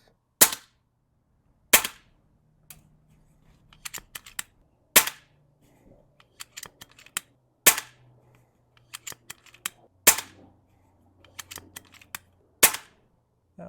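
Sharp, separate pops from a custom AGT Vixen air rifle fired at a target, about eight loud shots spaced a second or two apart with quiet gaps and faint handling clicks between them.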